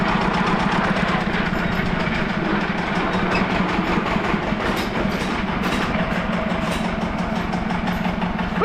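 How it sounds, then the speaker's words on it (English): A Lamborghini R230DT diesel tractor idles roughly, its loud, close, low engine rumble running steadily with a rhythmic knocking throb and no talk. "Hang on, my diesel's shutting off here."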